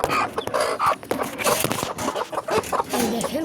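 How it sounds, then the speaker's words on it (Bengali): Chickens on a small home farm cluck and squawk close by as the larger hens are given feed, a busy overlapping flock chatter with scattered rustling. "এই দেখেন বড় মুরগিকে খাবার দিয়ে দিলাম।"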